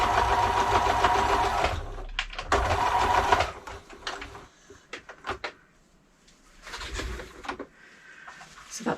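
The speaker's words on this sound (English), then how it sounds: "we're going to sew across there 1/4 inch" A sewing machine stitches a seam across the layered fabric of a vintage drawstring bag, running in steady bursts with pauses and short clicks between runs, fairly close and loud.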